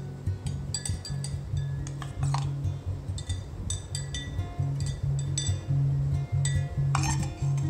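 A spoon adds finely chopped watermelon pieces to a glass for a watermelon shake, making repeated bright clinks and taps against the glass in an uneven rhythm, close and fairly loud, with no talking.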